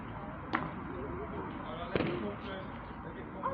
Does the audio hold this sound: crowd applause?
no